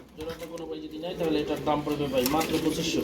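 Pigeons cooing among a pair of birds for sale, soft repeated coos under continuous talk close by.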